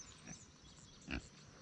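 Pigs on a farm give a couple of faint, brief grunts a short distance away, one soft and one louder, in an otherwise quiet setting with no talk.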